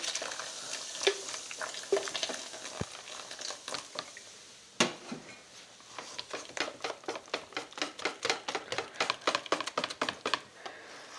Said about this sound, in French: Donc on rajoute notre gazeuse ou notre limonade si vous avez choisi de la limonade.